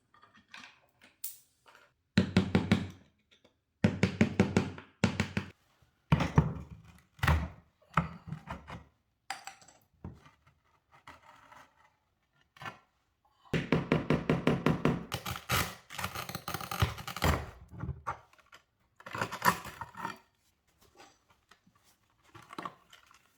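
A screwdriver scrapes old grout out from between tiles on a bathtub surround, heard as bursts of dry scratching and knocking strokes separated by short pauses, close and moderately loud, with no talking.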